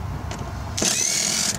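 A power tool whirs to life partway through, a steady, fairly loud whine backing out screws from the front bumper assembly of a 1991 Corvette salvage parts car, following a quieter stretch of low rumble.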